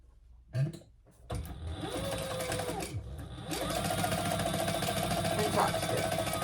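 A sewing machine top stitches a seam on a Percy crossbody bag, first a brief start-and-stop burst, then a short pause, then a steady, close mechanical whir of stitching that runs on to the end.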